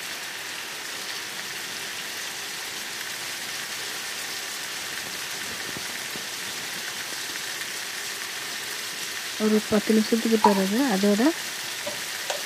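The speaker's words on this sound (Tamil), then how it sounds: "இந்த ஆயிலில் கொஞ்சம் சிக்கனை வேக விட போகிறேன்." Chicken fries in oil on an infrared electric cooker with a continuous close sizzle, and a person talks over it near the end.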